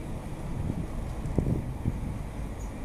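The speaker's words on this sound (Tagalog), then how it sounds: "Lakas pa ng hangin." Strong wind blows as steady low rumbling noise against the microphone, with a few faint gusty thumps and no voices.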